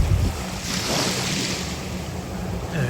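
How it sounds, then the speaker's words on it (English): Ocean surf and wind off Antigua, a steady rushing wash with gusts hitting the microphone. Any boat crossing is not clearly distinct and may only be part of the dull background. "One of the boats coming across."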